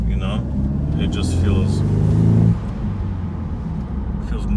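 BMW N20 engine with a replaced high-pressure fuel pump, heard from inside the car as a steady engine rumble that swells with a throttle blip, then eases back to idle drone.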